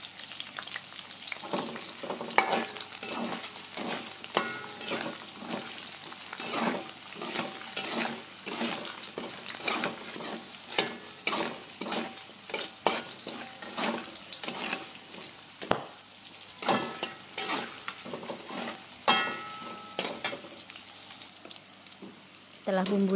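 Chili sauce spices frying in a pan with kaffir lime leaves, a steady sizzle broken by repeated scraping stirs in an uneven rhythm, close and moderately quiet, without talk.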